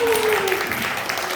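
An audience at a Korean youth Sunday worship service applauds the worship team with steady, continuous clapping filling the room, while a voice carries over the top.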